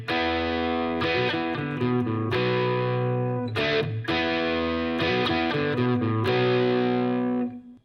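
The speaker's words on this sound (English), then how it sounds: "now I'm gonna show you how to play the outro riff" A distorted electric guitar plays the outro riff of a song, a sequence of ringing power chords with brief breaks, loud and close, ending abruptly.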